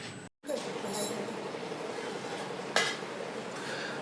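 A lid goes onto a pot of neem leaves boiling on the stove with one sharp metallic clink. Steady bubbling and hissing from the pot continue around it, with a brief cut in the sound near the start.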